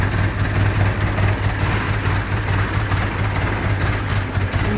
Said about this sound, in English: Now we'll start it with the push button starter.